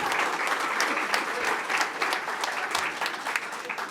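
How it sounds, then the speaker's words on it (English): Steady, enthusiastic applause from an audience welcoming the new Thorns FC owners in Portland, a continuous dense patter of many hands clapping with no talk over it. "I want to give a round of applause for Raj and Marta, the parents who are here right in the front."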